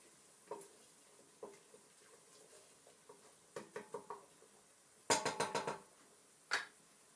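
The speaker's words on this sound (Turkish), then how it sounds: "Şöyle güzelce karıştıralım." A utensil scrapes and clinks against a metal pot in irregular bursts while stirring food with chili flakes, with a quick series of sharp taps near the end, faint sizzling underneath.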